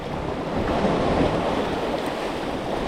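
Sea waves break and wash over a rocky shoreline during rock-shore spinning fishing, a steady close roar of surf with wind buffeting and no voices.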